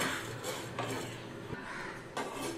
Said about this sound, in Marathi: हलकंसं भाजून घ्यायचं आहे.